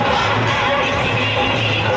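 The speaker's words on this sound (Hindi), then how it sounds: "अखनी बस स्टेशन से लैके विराटनगर के महेंद्र चौक तक के दर्शक देखियो कते भीड़ है" A packed crowd lines the Rath Yatra chariot procession route in Biratnagar, from the bus station to Mahendra Chowk, making a dense, continuous murmur of many voices with faint cheering, loud and close throughout.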